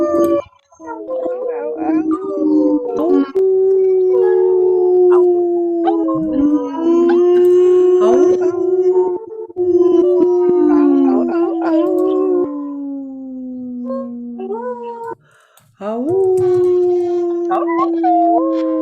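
A group of people at a rain dance ceremony with gong bath and crystal bowl sound healing imitate gentle wolf howls, several overlapping long rising and falling voiced howls sustained loudly throughout with brief pauses.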